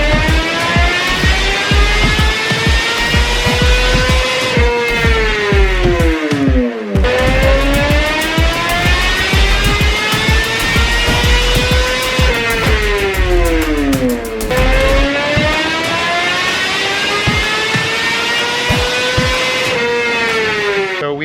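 A 2020 Suzuki GSX-R600 sport bike with an M4 mid-pipe and slip-on exhaust runs loud and close, revving up in long, rising sweeps through the gears and dropping back three times.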